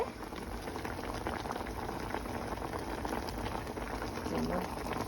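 Water boils hard in a cooking pot, giving a dense, continuous bubbling and hissing roar that stays steady and close throughout.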